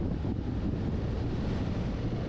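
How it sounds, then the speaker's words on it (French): Strong gusty wind of about 70 km/h with gusts to 90 batters the microphone in a sunny outdoor spot in the Luberon, producing a loud, continuous low rumble with no pauses. "Donc un vent à 70 km/h avec des rafales à 90"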